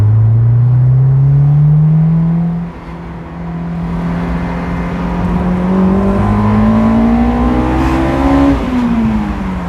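Honda S2000 AP1 sports car driving, its engine note rising and falling through steady harmonic revs, loud and close from inside the cabin with no talking.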